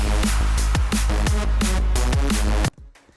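A bright, buzzy sawtooth synth lead plays a repeating rhythmic phrase over punchy electronic drums, then cuts off abruptly near the end.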